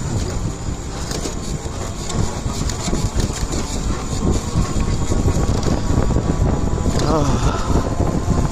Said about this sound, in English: This thing's not built for speed, but the electronic motor is the great equalizer.